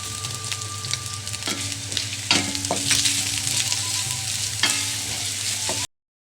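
Vegetables and chicken with pepper and salt are gently stirred in a frying pan, giving a continuous sizzle broken by occasional spoon scrapes and clinks before the sound cuts off abruptly, with no talking.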